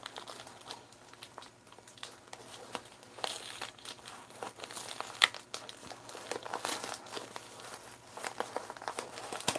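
Plastic packaging on a Marvel Legends figure crinkles and rustles with small tearing sounds, close and fairly quiet, in irregular bursts with no one talking.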